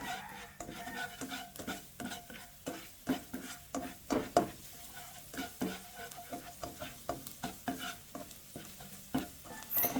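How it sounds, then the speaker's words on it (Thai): Minced garlic stir-fries in hot oil in a wok, sizzling under a steady run of spatula scrapes and clanks against the metal, close up and rhythmic, with no talking. "ผัดกระเทียมสับ ให้เหลืองหอมตามเคยเลยครับ"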